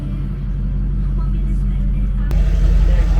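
A 4WD Kodiak truck fitted for a camper idles and reverses slowly, its engine giving a steady low rumble with a louder surge near the end as it backs up.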